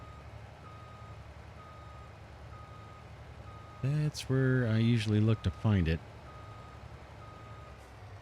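Reversing beeps from a truck being parked in Farming Simulator 22 sound as a steady, faint repeating tone under a low engine hum, while a person talks briefly partway through.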